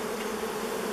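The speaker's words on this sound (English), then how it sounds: "They're just buzzing around" Honey bees buzz around an old beehive left unopened for over thirty years, a steady, fairly close drone of many wings, with no talk.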